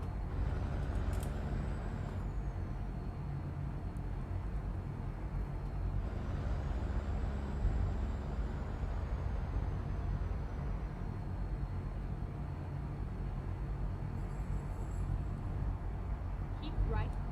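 A truck's Jake engine brake in American Truck Simulator, hauling a flatbed through Utah, gives a low, steady rumbling drone under road noise, fairly quiet, with someone talking over it.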